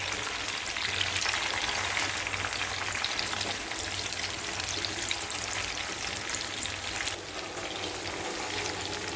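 Chicken pieces for biryani sizzle in hot oil with a steady, dense crackle and spatter. The sound carries on evenly throughout at close range, with no voices.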